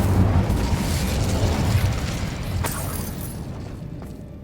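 The Incendio fire spell is cast in Hogwarts Legacy, a loud roaring burst of flame that fades over a few seconds.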